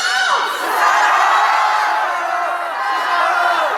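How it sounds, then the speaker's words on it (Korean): A large crowd at a political rally in South Korea roars a slogan together, a loud, sustained mass of shouting voices close by. "저의 마지막 말을 크게 한번 세 번 외쳐주십시오"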